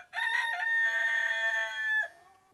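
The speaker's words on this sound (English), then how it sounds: "I got a rooster, and here it is." A rooster crows once, loud and close, a long drawn-out call of about two seconds that then stops abruptly.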